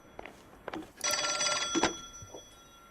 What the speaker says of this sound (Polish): Dzwoni telefon.